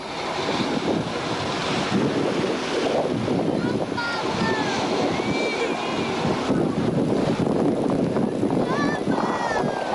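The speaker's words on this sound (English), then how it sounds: "that freight train sound that is the cliche audio signature of a storm like this" Steady, roaring tornado wind like a freight train buffets the microphone continuously, a heavy rushing noise with faint voices underneath, from an F1 tornado in Miami, Florida.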